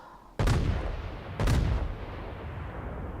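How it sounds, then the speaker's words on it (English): Heavy naval main-battery guns of the battleship Tirpitz fire in World of Warships, two loud booming salvos about a second apart, each with a rolling rumble that lingers into a low battle ambience. "I make some speculative shots with two turrets"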